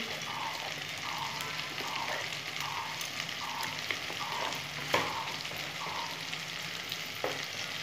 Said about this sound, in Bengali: ভালো করে এখন কষে নেবো এটা।